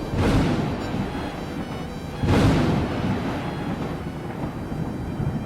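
Two deep rumbles of thunder roll in over a steady hiss of rain and wind, the second crash building louder before fading.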